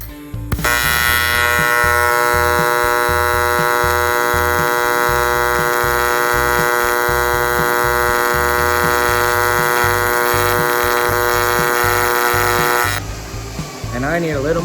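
A Miller Multimatic 220 AC/DC multiprocess welder TIG welding aluminum with high-frequency start hums in a loud, steady electric buzz for about twelve seconds, then cuts off abruptly, with a voice faintly underneath.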